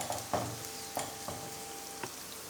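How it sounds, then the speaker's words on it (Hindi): Okra, or ladyfinger, frying in a pan, a soft steady sizzle broken by several sharp clinks and scrapes of stirring, close and fairly quiet with no talking. "तो इधर भिंडी भी फ्राई हो रही है।"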